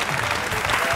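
Studio audience applauding a team on an Azerbaijani evening game show, steady dense clapping filling the whole moment without a break.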